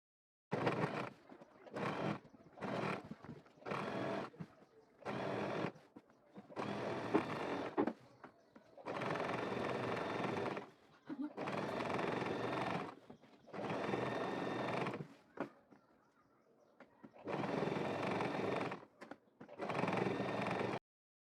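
A sewing machine top-stitches a kaftan dress in about ten quiet, separate runs of rapid whirring stitching, with brief pauses between them.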